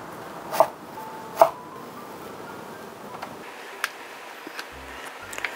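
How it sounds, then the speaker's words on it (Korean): A kitchen knife slices Korean radish into thin pieces on a cutting board, two sharp loud chops followed by fainter, scattered taps in a quiet room. "무를 이렇게 썰어서"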